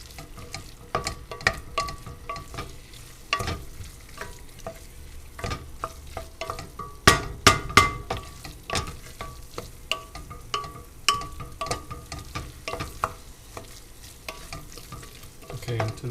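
Onions and tomato paste sizzle and fry in a pan while being stirred, with a steady frying hiss broken by repeated scraping and clacking stir strokes, including a louder burst of scrapes midway; no one talks.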